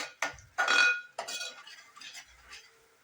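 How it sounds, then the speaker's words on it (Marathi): A spoon clinks and scrapes against a pan while masala is stirred with crushed kasuri methi for chole, a few short separate strokes, close and dry. "हातावर अशी बारीक करून करून मग ह्याच्यात घालायची आहे आणि चांगलं मिक्स करून घ्यायचं आहे."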